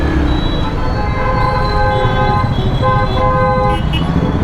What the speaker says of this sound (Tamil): ஹார்னு பார்ப்போமா? ஹார்னு ஓகே தான்.